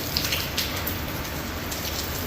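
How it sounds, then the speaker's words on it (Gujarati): Light rain falling steadily in a village, a soft, even hiss of drops with faint patters on surfaces nearby and no voices. "અમારે એ ધીરો ધીરો વરસાદ ચાલુ થઈ ગયો હે."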